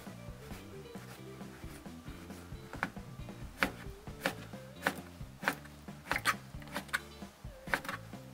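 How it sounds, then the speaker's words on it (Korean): A knife slices abalone thinly on a cutting board, giving a series of crisp, close taps that grow more regular and pronounced as the cutting goes on, with faint background music. "저는 이렇게 얇게 썰어야지 식감이 있더라고요"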